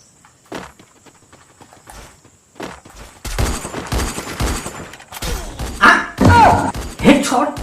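Free Fire game gunfire: quick bursts of shots and thuds that grow louder and denser after a quieter start, under excited talk from a player.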